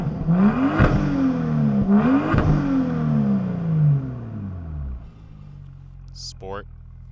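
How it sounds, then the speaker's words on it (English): A BMW F87 M2 with an M Performance exhaust and its valves open revs twice, each blip rising sharply and then falling away into a loud, throaty idle before settling to a quieter hum. "it's going to open up the valves, and now we have a much more pure sound with the exhaust"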